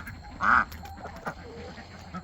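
A single loud duck quack from a farm flock stands out near the start, followed by softer scattered calls and low background noise.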